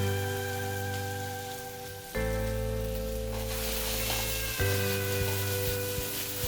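Shredded potatoes browning in a preheated pan for a salmon hash give off a steady broadband sizzle, with a steady hum underneath and a sudden louder burst of frying partway through.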